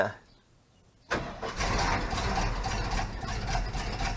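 A truck with a 390 engine cranks and fires up after a second of quiet, then settles into a loud, rough, close idle that continues steadily.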